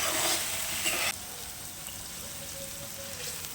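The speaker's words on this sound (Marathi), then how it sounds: "सुरुवातीला तेल ओढून घेते ही पेस्ट आणि नंतर जशी जशी भाजते तशी त्यातून तेल रिलीज होते" Garlic chutney paste fries in oil as a dense, steady sizzle that is loud at first and then drops abruptly to a quieter, continuous crackle.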